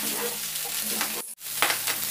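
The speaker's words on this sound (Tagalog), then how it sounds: "we will continue stir frying" Chicken feet stir-fry in a pan for brown stock with a steady sizzle, broken by a short stirring scrape and a brief lull before the frying hiss comes back.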